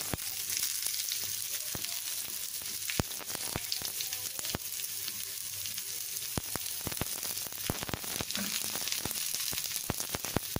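Curry leaves and chopped onion frying in hot oil, a steady close sizzle broken by frequent sharp crackles and pops, with occasional stirring.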